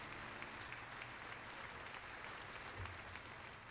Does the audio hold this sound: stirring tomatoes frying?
no